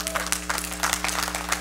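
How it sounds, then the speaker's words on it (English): Church congregation clapping together in response to a question during a Wednesday night gathering, a dense, steady burst of applause filling the room over a low background hum. "would you just let us know by clapping?"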